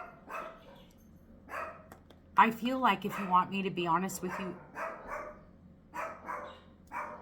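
Dogs bark outside a house at a distance, a few short barks and yips rising in the middle under a woman's ongoing speech, fairly faint behind her voice.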